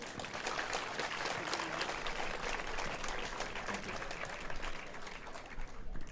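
An audience at the Roll Out DUT25 event applauds a guest speaker with steady, continuous clapping. It sounds moderately loud and somewhat distant, with room noise underneath.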